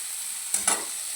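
Ridge gourd chutney, pounded on a grinding stone and topped with coriander, gets stirred in a pan: two short scraping strokes close up over a faint sizzle, with no voices.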